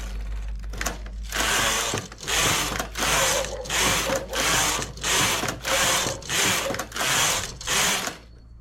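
Carriage of a knitting machine shuttled back and forth across the needle bed while making a buttonhole, a clattering mechanical ratchet repeated in about eight even passes, close and steady with no talk.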